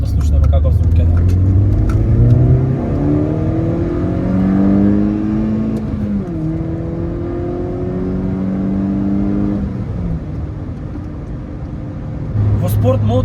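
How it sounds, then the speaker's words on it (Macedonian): A MINI Cooper Coupe John Cooper Works engine revs in sport mode, rising through several loud climbing pitch sweeps with gear changes, then settling to a lower drone before picking up again. "Ајде да го ставиме во спорт мод, да слушнеме каков звук ќе даде."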